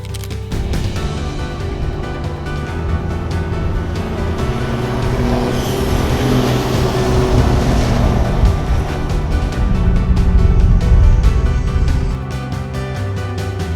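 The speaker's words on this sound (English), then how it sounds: "Just on the beach having a drive of Cal's Cruiser, the 1H DFTE" A Toyota Land Cruiser with a 1HD-FTE diesel engine drives along a beach, its steady low engine drone and road roar close and continuous, building slightly before easing near the end, with a wash of wind and surf-like noise.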